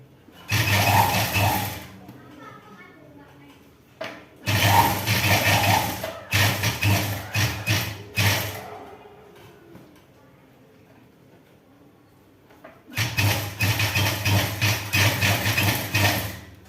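A sewing machine stitches piping onto a chudi in loud, close bursts of rapid mechanical whirring and clatter, three long runs separated by pauses with quieter handling noise.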